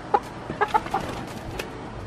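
Chickens in a backyard coop with a perch cluck in a few short, separate calls. The sounds are close and moderately loud over low background noise.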